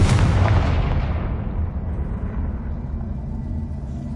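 A Confringo blasting spell detonates in a Harry Potter video game, a loud booming explosion that hits at once and rolls away into a long fading rumble, with no voices.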